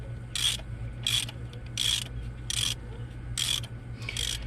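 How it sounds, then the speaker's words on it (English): Ratchet wrench backing out water pump bolts on a car engine: six quick clicking bursts in a steady rhythm, close and fairly crisp over a low background hum. "Now we're just gonna ratchet them all out."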